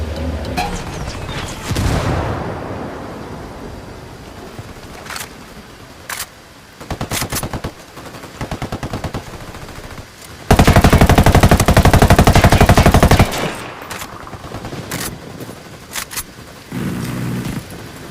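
Gunfire between rebels and cartel fighters in the video game Ghost Recon Wildlands: repeated bursts of automatic fire and single shots, with a long, loud sustained volley near the middle and explosive booms, close and intense.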